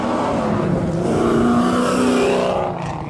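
A car revs loudly as it passes close by on a street, its engine note rising and sustained for several seconds before fading slightly at the end.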